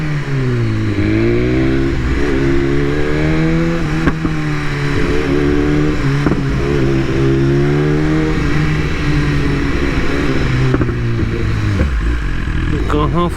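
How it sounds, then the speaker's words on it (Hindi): A BMW S1000RR four-cylinder sports motorcycle engine revs repeatedly, its pitch climbing and dropping in smooth waves, loud and close the whole time. "क्योंकि अभी स्पोर्ट्स बाइक 4 सिलेंडर, तो उस हिसाब से इसका साउंड रहता ही है।"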